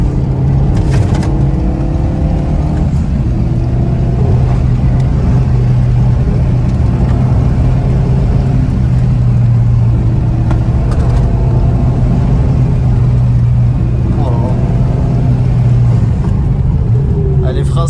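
A 2015 Renault Megane 3 RS phase 3 with a stage 1 tune accelerates hard, its engine droning loudly and steadily from inside the cabin while occupants talk over it.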